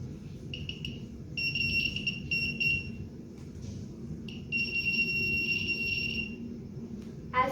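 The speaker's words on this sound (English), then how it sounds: "When the stick senses obstacles, it starts beeping." High electronic beeping in bursts from a blind stick's obstacle sensor, a rapid rhythmic tone that starts and stops a few times, fairly faint over a low background hum.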